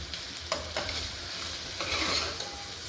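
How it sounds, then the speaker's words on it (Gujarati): Onions and vegetables for Kathiyawadi khichdi stirred in a pot, with a low, even sizzle and a few quick scraping strokes of the spoon close up, no voices. "એકદમ મિક્સ કરીને હલાવી નાખવાનું"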